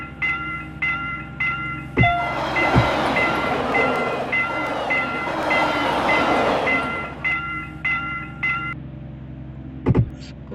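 A train passing in the 3D Driving Class video game, with a loud rumbling rush that builds and fades over rhythmic clicking and a repeating electronic chime, and sharp thumps at the start and end.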